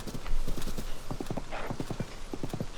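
Horse hooves clip-clopping in Zelda: Tears of the Kingdom as the rider sets off on a horse named Roach, an even, close trotting rhythm of repeated hoof beats with a brief whinny partway through, no talking.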